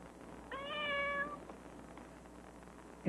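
A cat in a Whiskas cat food commercial gives one clear, drawn-out meow over quiet background music, followed by a short thump at the end.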